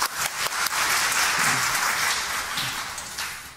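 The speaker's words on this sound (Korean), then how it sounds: "박수 한번 칠까요?" Church congregation at a Friday evening service breaks into applause, a fairly quiet, steady wash of many hands clapping together, with no speech over it.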